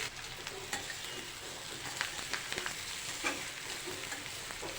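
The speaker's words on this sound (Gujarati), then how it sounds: "હવે આપણે કોથમીરના પાન લઈ લઈશું અને બરાબર મિક્સ કરી લઈશું" Cabbage snack with coriander leaves being stirred in a hot pan, soft sizzling under irregular scraping and clinking of a spoon against the pan, close and moderately quiet, no talk.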